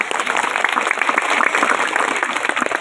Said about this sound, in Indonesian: Tepuk tangan buat semua.